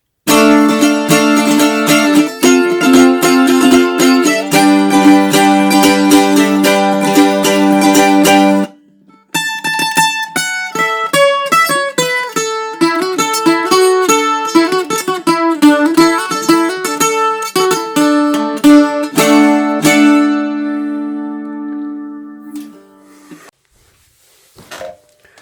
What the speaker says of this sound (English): this is a crafter mandolin that I've been using for gigging because it's got a pickup in it